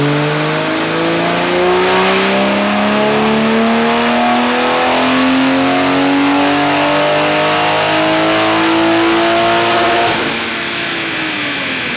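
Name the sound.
BMW B58 Toyota Supra engine revving on a dyno pull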